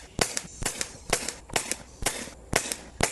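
An Umarex Gauntlet 2 .25 caliber PCP airgun fires a rapid, regular string of sharp, close cracks about every half second, each trailed by a softer tick, with no talking.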